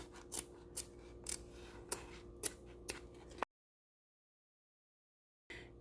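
Scissors snip fabric for a zipper-pocket bag panel in a series of short, crisp cuts, close by and evenly spaced, then a pause of silence before the snipping starts again.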